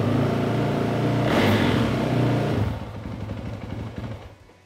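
Yamaha YZ450F motorcycle engine starting up after a starter clutch replacement: loud continuous engine noise from the start, then a lower, choppier run with rapid firing pulses that fades toward the end, with no talking.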